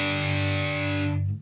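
One distorted electric guitar chord strummed with the fifth and first strings muted, for a song intro, rings loud and close for about a second before cutting off.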